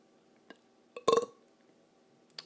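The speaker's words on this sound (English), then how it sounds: "Oh, that was a weak-ass burp," A single weak, short burp at moderate distance, standing out briefly against a quiet background with a couple of faint clicks nearby.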